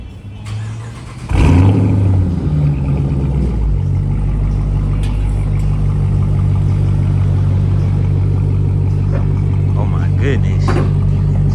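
A Dodge Challenger with its muffler removed starts up and settles into a loud, deep, rumbling idle that holds steady and close, with someone talking over it.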